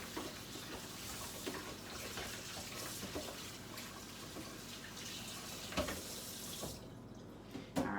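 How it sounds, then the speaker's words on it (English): Tap water runs steadily into a strainer of raw chicken in a kitchen sink, a close, continuous splashing rinse with small clunks and a brief knock near the end. "So my chicken is in my strainer here. Now I'm just going to rinse it off."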